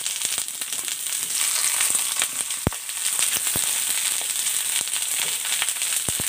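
Long-cut eggplant slices frying in hot cooking oil in a pan, a steady close hiss of sizzling with frequent sharp pops and crackles, no talking.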